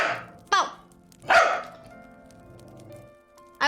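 A dog barks in a video game, giving three short, sharp barks spaced over a few seconds with quiet between them.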